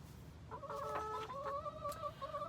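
Chickens in a coop give a few soft, close clucks and short calls over a quiet, low background.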